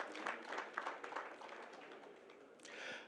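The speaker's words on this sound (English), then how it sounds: "A round of applause for all of them." An audience at a Lagos architects' forum applauds the invited guest professionals: a fairly faint, steady wash of many hands clapping that gradually thins out.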